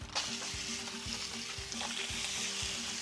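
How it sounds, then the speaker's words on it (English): Burgers frying in a pan greased with olive oil cooking spray, a loud, continuous close sizzle with a low rhythmic bubbling and a steady hum underneath, no voices. "hear that sizzle? That's beautiful."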